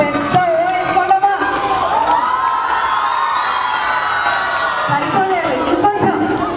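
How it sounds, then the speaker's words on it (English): Children and parents in a school annual-day audience shout a long, loud sustained cheer together, a dense wall of voices with whoops and yells, holding steady for several seconds. "ఒక పెద్ద ఓ వేసుకోండమ్మా."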